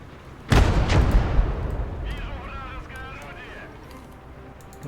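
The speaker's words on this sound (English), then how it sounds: "I think that's the artillery opening up." A single heavy artillery boom erupts on a battlefield, followed by a long rolling rumble that fades, with voices speaking afterward.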